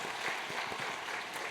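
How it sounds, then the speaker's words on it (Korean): Church congregation applauding to welcome a visiting family at a Sunday service, a steady wash of many hands clapping together at moderate distance throughout. "박수로 한번 환영하시겠습니다."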